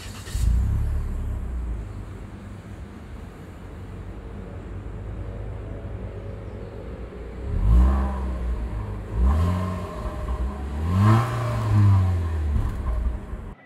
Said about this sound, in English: So this is the startup for the Proton Saga.